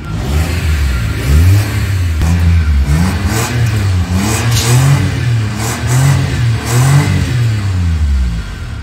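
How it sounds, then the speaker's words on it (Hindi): Small four-cylinder engine of a 2015 Suzuki Mehran VX car runs close up, revved repeatedly in rising and falling surges over a steady idle, with no talking. "गाड़ी की स्टार्टिंग बिल्कुल ठीक है, देख रहे हैं गाड़ी की आवाज़ बिल्कुल ठीक है।"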